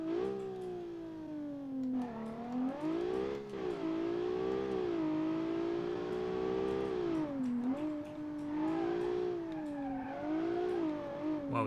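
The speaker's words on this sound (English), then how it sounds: "That engine is much louder immediately." A Mitsubishi Evo 11 engine in the Automation car game revs steadily and loudly, its tone rising and falling in long sweeps across the whole stretch, with no talk over it.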